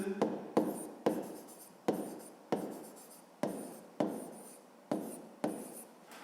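A pen writes a fifth-grade maths solution by hand on paper, making about ten short scratchy strokes in a steady rhythm, each a quick rasp that fades, close and quiet with no talk.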